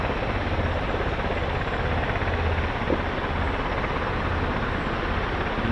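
Heavy military aircraft departing an RAF-base runway with US Air Force KC-135, C-17, C-146 and CV-22 Osprey traffic, a steady loud broadband engine roar filling the whole stretch without pause.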